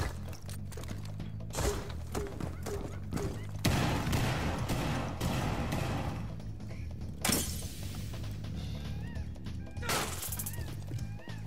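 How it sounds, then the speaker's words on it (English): Gunfire in a tense multiplayer video game round, heard as sharp crashing bursts and shattering impacts scattered through the clip amid game noise. "I just heard a gunshot."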